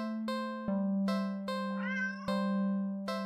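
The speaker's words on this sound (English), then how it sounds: "It's an interesting cat." A cartoonish cat in the video game Do Not Take This Cat Home meows repeatedly in loud, tonal, evenly spaced calls, close and clear with no talk over it.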